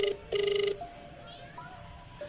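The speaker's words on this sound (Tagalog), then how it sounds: "sa napakadaming pag-ring ng telepono" A telephone rings unanswered, two short electronic ring bursts near the start, the second longer, followed by quieter tones and background murmur.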